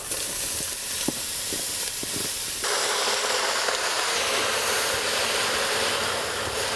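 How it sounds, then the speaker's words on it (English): Peppers sautéing in a hot pan for Mexican brown rice: steady close sizzling hiss with a few clinks and stirring knocks early, then a louder, brighter sizzle as food hits the pan, continuous throughout. "heat up your pan. Let's give this a saute and get it going"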